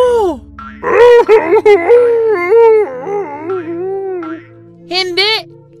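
A narrator's voice imitates the big bad wolf crying out loudly, a long wailing, groaning howl with rising and falling pitch, close and loud, ending in a brief higher-pitched cry.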